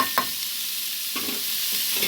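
Watermelon rinds stirred with turmeric and salt in a pan give a steady soft sizzle, with a few brief scraping stir strokes near the start and middle and one near the end.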